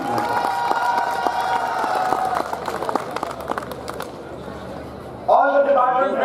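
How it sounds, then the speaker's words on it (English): Applause and cheering from an audience at a college arts and culture event fill the room, dense and steady, then fade as a voice begins speaking near the end. "A big round of applause for Dr. Chauhan and his team."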